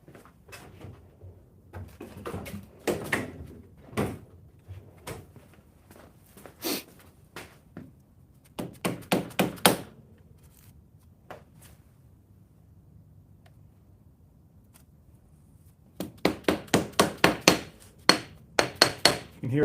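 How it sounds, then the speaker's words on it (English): A dead blow hammer taps on a TTR125LE motorcycle's clutch cover to loosen it, giving sharp dull knocks in short bursts, including a quick run of several taps near the end, separated by quiet pauses. "I'm gonna take a dead blow hammer and just tap it a couple times"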